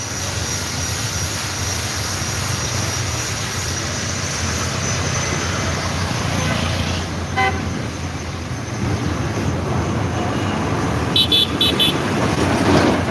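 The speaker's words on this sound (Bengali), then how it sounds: "এই যে একটি ট্রাক যাচ্ছে" Road traffic rumbles steadily with a loud low engine drone as a truck passes close by, joined by a few short horn toots near the end.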